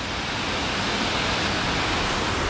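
A waterfall roars loud and close in a remote Brazilian natural setting with a small beach, a dense, unbroken rushing wash of water with no other sounds.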